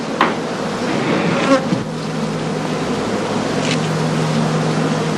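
Honey bees buzz around straw skep hives with a dense, continuous drone, loud and close, with a few louder passes of individual bees near the microphone.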